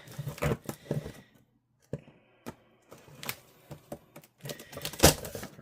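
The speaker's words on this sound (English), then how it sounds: "we're just gonna cut open this adhesive" A box for a custom desktop PC build is being cut open along its adhesive tape, giving sharp irregular ticks and scraping slices close by, separated by short pauses.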